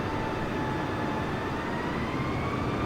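Steady broadband drone of an airliner engine in Microsoft Flight Simulator 2020 on a low landing approach over houses, a continuous even roar with a faint thin tone running through it, no voices.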